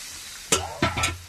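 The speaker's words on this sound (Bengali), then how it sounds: "তো আমি পরিমাণ মতন জল দিয়ে দিচ্ছি" Water poured into a hot pan of rohu fish curry with green banana, making two sharp bursts of sizzle and bubbling after a quiet start, close and short.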